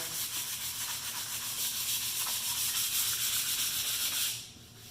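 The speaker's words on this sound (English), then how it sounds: "It's not really too rough, maybe a little bit around that knot. We're going to sand that down." Hand sanding of a wooden sign board around a knot, a continuous close rasping rub with even back-and-forth strokes that fade out at the end.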